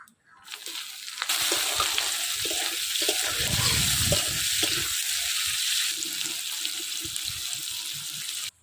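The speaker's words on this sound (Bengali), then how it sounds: "এই দেখেন পেঁয়াজগুলো লাল লাল করে ভাজা হয়ে গেছে।" Steady, close sizzling of food frying in a pan, with occasional clinks and scrapes of stirring.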